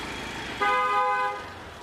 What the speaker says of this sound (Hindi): बाप रे इतना ट्रैफिक है ना, हालत ख़राब हो रही है